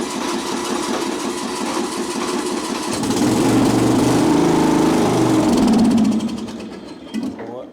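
A trashed Craftsman riding lawn mower engine, set to full throttle with choke, cranks and runs roughly at close range, swelling louder midway then fading, with a voice talking over it.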